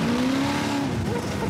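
An off-road vehicle drives across desert sand in second gear, its engine droning loud and close with a rising, wavering pitch and a faint squeal from the tyres.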